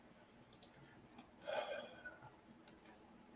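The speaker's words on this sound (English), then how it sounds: "I'm just typing to someone in chat." Light, quiet clicks of typing on a computer keyboard come in scattered short bursts with a denser flurry in the middle, heard alone in a hushed room.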